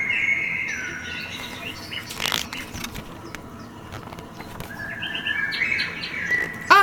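Storybook sound effect of a cuckoo calling inside a shed: bright bird chirps and tweets repeat throughout at moderate volume, with a louder burst near the start and another toward the end.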